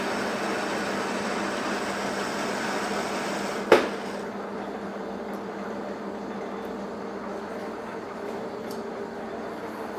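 A lathe takes a light spring pass on a new steel piston rod for an A.D. Baker steam traction engine, giving a steady broadband machining drone with one sharp click partway through.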